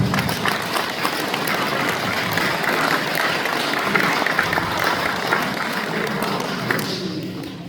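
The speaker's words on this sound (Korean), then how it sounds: "다시 한번 큰 박수 부탁드립니다" Outdoor crowd at a Liberation Day 80th anniversary ceremony gives sustained, steady applause with some background chatter and voices mixed in throughout.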